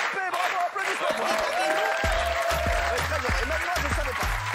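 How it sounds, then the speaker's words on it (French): Studio audience on a French TV talk show breaking into sustained applause, dense clapping throughout with a host talking over it. "Bravo, applaudissements."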